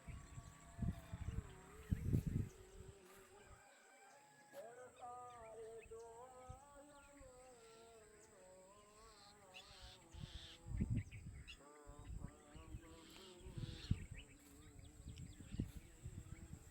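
Birds chirp and call in the early morning, a scattering of tweets and warbling notes over a faint steady background, with occasional low thumps and rustles.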